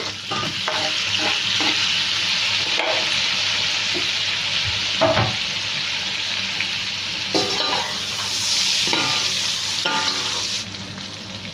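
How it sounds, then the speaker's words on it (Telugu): Steady loud sizzling of tomatoes frying in a pan for an egg dish, with occasional stirring scrapes and clinks throughout. "ఇప్పుడు టమాటా వేద్దామండి టమాటా మనకి ఎక్కువ ఫ్రై అవ్వాల్సిన అవసరం లేదు"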